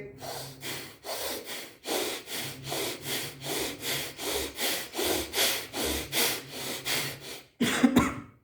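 Rapid, forceful rhythmic bhastrika pranayama yoga breaths, about two per second in a steady series, close and loud, ending with a brief cough-like burst.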